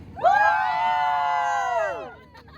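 A group of people gives one long, loud, sustained scream on command during a cave and river outing. The scream rises sharply, holds steady for nearly two seconds and then drops away.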